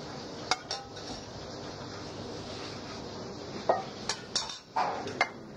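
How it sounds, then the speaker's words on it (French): A pan cover lifted off and a John Dory fillet taken out in a kitchen: faint room tone broken by a few sharp metallic clinks and scrapes of lid and utensil against the pan. "The cover is removed and the filet taken out."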